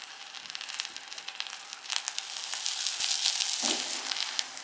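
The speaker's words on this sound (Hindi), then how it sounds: "मीडियम आंच के ऊपर शुगर को मेल्ट होने तक पकाएंगे" Brown sugar, salt and butter heating in a saucepan over a medium flame for caramel sauce, a soft close sizzle with fine crackles that grows steadily louder, no talking.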